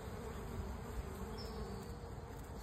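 Bumblebee buzzing at the entrance of a honeybee hive, a steady low droning hum close by and faint, with no voices.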